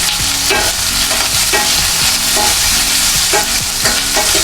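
Onion, ginger and green chili sizzling loudly in a pan for Punjabi-style shahi paneer, with a constant close frying hiss and regular scraping strokes of a stirring spoon roughly every second.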